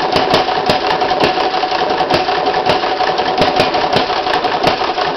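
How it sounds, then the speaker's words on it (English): A small homemade hit-and-miss gas engine with custom-cast flywheels runs steadily, close and loud, its fast, even ticking and clattering beat continuing without pause. "It's been a very sweet running little engine."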